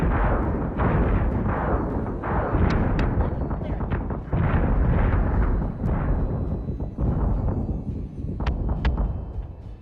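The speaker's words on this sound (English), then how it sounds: "Missiles incoming!" Repeated explosions of incoming missiles in the Missile Command video game, a dense, continuous barrage of booming blasts and bursts with sharper cracks near the end, loud throughout.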